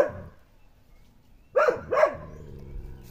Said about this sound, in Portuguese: Tem um cachorro aqui meio brabo aqui, mas passando perto dele aqui.